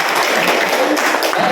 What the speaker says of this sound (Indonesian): Kita berikan tepuk tangan untuk Bapak.